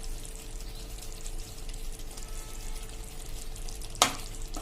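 A pan of curd-and-potato curry with garam masala, coriander leaves and kasuri methi sizzles steadily while being stirred, with one sharp utensil clink near the end.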